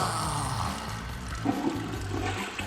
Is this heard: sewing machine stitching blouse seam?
no